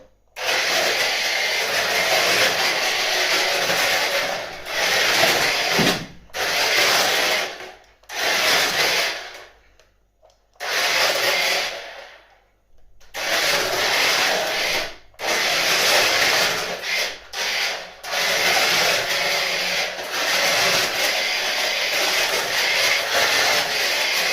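A small motor of a 1:14 scale 4WD RC touring car whirs and grinds loudly across a hard kitchen floor, with brief pauses and bursts as the car runs back and forth.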